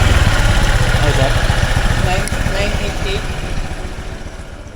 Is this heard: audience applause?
no